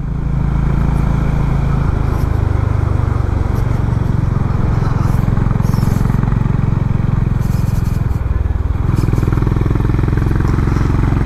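A Honda Highness CB350 motorcycle rides along curving mountain roads, its engine a loud, steady close thrum with slight shifts in pitch and wind rush, unbroken for the whole stretch.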